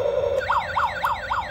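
Toy remote control police car siren, a looping electronic wail that sweeps up and down in steady repeated cycles, loud and close, with no talking.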